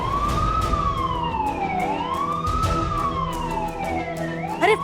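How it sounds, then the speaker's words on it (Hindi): A fire engine siren wails loudly and nearby in slow rising and falling sweeps that repeat in a steady cycle, with traffic rumbling underneath. "अरे फायर ब्रिगेड वाले आ गए।"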